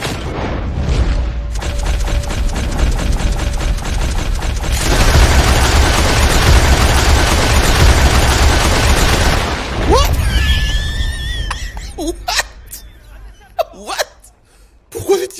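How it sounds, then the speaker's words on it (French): Sustained rapid machine gun fire in Red Dead Redemption 2, loud and dense for several seconds before breaking off into scattered booms, shouts and laughter. "C'était une mitrailleuse de bordel!"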